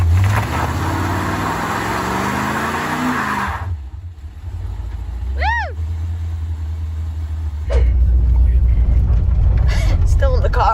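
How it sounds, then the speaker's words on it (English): A C4 Corvette's engine rumbles and revs hard during a burnout attempt, loud and close, dropping briefly before surging back stronger; a short whistle-like sweep and people's voices mix in. "I'm trying to do a burnout."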